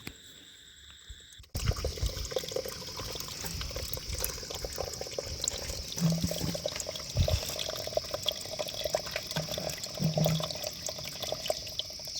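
Spring water flowing steadily on a forested mountain trek to Agasthiyar hills, starting abruptly and running as a close, continuous trickling splash with a few gurgles over the rest of the clip.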